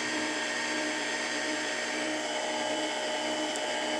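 A kitchen blender runs on its stir setting while mixing a low-sugar cheesecake dessert, giving a steady, fairly loud motor whine with an even hum that holds unchanged for the whole stretch, with no talk over it.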